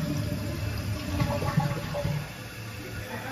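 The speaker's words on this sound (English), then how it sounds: "And then what I'll do is I'll give it a flush," A repaired toilet tank flushes nearby with a rushing gurgle that fades after about two seconds into a softer hiss as the tank starts to refill.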